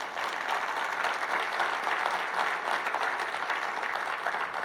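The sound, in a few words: congregation applause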